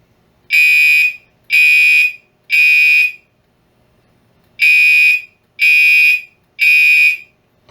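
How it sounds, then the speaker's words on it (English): Six loud, high-pitched electronic chlorine gas alarm beeps in two groups of three, each tone about half a second long, with a pause between the groups. "This is what it should sound like when you hear the chlorine alarm."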